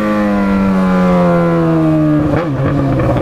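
Yamaha XJ6 motorcycle engine revving hard and close, a steady loud drone that holds a high pitch then blips and drops briefly near the end, with no talking.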